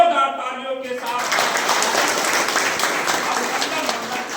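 Applause from a seated audience gathered for a Kurmi community event at Patel college, a broad dense clatter rising after a spoken voice fades in the first second and holding steady and loud.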